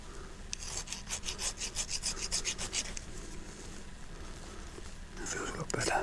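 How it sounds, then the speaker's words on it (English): Filing a burr off a starter part from a Cors-Air Black Bull ultralight engine, heard as close, regular rasping strokes for about three seconds, then quieter scraping and handling. "I'm just going to take that burr off as well before I put it back together"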